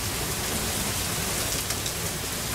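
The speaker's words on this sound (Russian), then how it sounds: "сегодня у нас ливень" Heavy rain pours down in a steady, dense downpour, a loud continuous hiss of drops with no voices over it.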